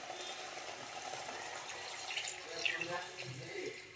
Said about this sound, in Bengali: এবার আমি দুধটাকে সবটাই ঢেলে দেব